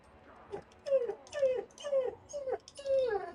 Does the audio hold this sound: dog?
yes